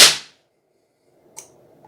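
A resistor blows up on a capacitor discharge test bench with one sudden loud bang at the start that cuts off fast, followed by near silence and a faint click.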